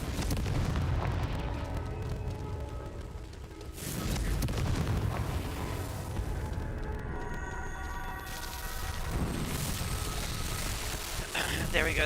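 Blasting spell in Hogwarts Legacy erupting in loud, rumbling booms with a fresh burst near the four- and nine-second marks, dense and sustained over game noise while a voice talks.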